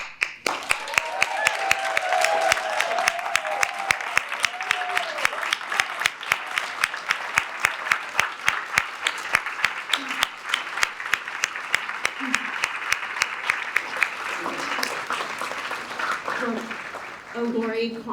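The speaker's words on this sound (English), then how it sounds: "stand, cheer, applaud, and acknowledge these Vietnam veterans in a way they so richly deserve" An audience at a Vietnam War 50th anniversary commemoration rises to applaud and cheer Vietnam veterans, with sustained loud clapping filling the room and voices calling out under it.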